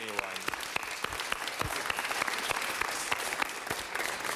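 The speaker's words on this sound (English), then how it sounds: "Please give Joe a round of applause, because he really deserves it more than anyone." Applause in the Los Angeles City Council chamber for Joe Buscaino during an Italian-American Heritage Month presentation, with sharp, separate claps from a modest group, close and fairly loud, lasting several seconds.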